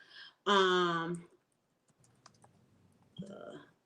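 A short vocal sound, then a few soft, scattered keyboard clicks of typing on a computer keyboard, quiet and close.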